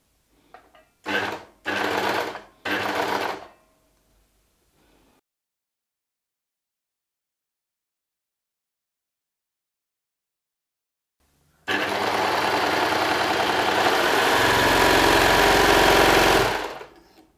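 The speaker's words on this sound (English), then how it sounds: "If you're using a sewing machine, just sew a 3/8 seam how we did in the earlier steps" A sewing machine stitches a 3/8 seam on a midi skirt: three short whirring bursts, then a long silence, then one sustained loud run of stitching before it stops.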